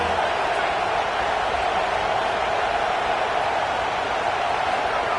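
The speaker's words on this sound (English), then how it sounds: "This crowd bringing the energy and noise early." Dense, continuous roar of a large stadium crowd at an Arizona State at Texas A&M college football game, steady and loud with no distinct voices standing out.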